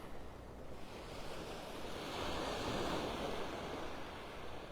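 Ocean waves washing onto a sandy Gulf beach in North Naples, Florida at high tide, a continuous surf roar that swells and recedes, with wind buffeting the microphone and no voices.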